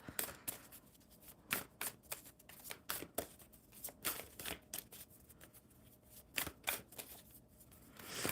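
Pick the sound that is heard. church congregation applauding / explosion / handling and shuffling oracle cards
handling and shuffling oracle cards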